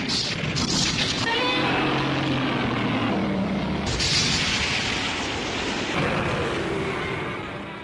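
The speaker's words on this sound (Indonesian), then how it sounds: "Ledakan tersebut menciptakan letusan" A deep, sustained roaring rumble of an explosion triggering a volcanic eruption in a Godzilla film, with a sharp burst partway through and a low tone underneath.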